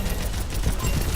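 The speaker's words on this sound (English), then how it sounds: "I'm just shooting Hog." Rapid, continuous gunfire in the Overwatch video game as a player shoots at the hero Roadhog, a dense, steady rattle of shots filling the whole moment.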